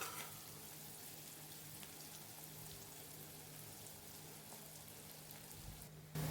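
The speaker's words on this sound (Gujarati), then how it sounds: "2 ડુંગળી લીધી હતી, એને સરસ મજાની ઝીણી ઝીણી આપણે કાપી લીધી હતી। થોડીક બદામી કલરની થાય ત્યાં સુધી આપણે તરવા દઈશું" Finely chopped onions fry in a pan, a faint, steady crackling sizzle with a low hum beneath, continuous and undisturbed.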